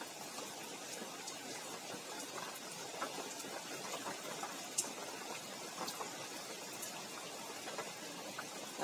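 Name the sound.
rain falling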